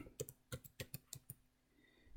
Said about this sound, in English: I typed gender and pressed tab on the keyboard